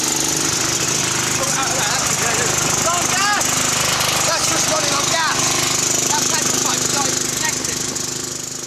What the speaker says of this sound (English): The lawnmower runs on methane, which means it should run on biogas.